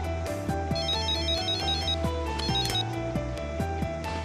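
In an anime episode, a cell phone rings with a repeating electronic ringtone in two short bursts over a steady musical soundtrack, with no talk.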